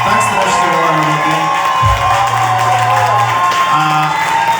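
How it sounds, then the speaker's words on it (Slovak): A large live concert crowd cheers, whoops and applauds loudly and continuously, with voices shouting through the din. "Takže dajte mu ešte raz obrovský aplauz"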